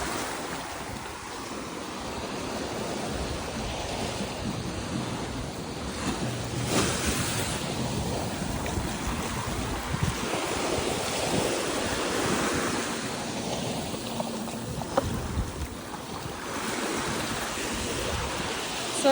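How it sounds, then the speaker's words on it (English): Strong ocean waves rolling onto Negombo Beach, Sri Lanka, a continuous loud surf wash with wind noise across the microphone, breaking and receding in broad surges. "The waves are strong."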